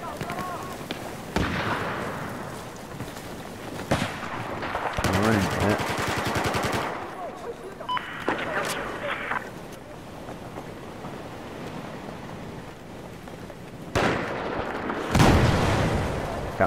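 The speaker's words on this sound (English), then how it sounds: "That would be a grenade, I think." Battlefield 4 firefight with rattling machine gun and rifle bursts, a sharp grenade blast among loud explosive hits, irregular and close, with gunfire continuing between the louder booms.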